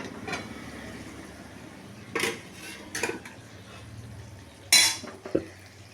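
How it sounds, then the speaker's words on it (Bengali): Metal cooking-pot lid lifted and set down on a gas stove while soybean curry simmers, with a few sharp clanks and scrapes standing out over faint kitchen background. "এবার ঢাকনাটা তুলে দেবো"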